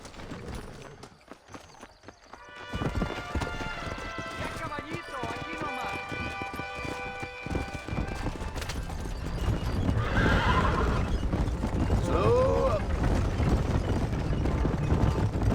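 Galloping horse hooves clatter steadily over music in the video game Red Dead Redemption, with a horse whinnying partway through and voices talking.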